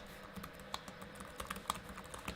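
Rapid, quiet keystrokes on a Lenovo ThinkPad X1 Nano laptop keyboard, a run of soft, shallow clicks with a few sharper taps standing out, heard alone at close range.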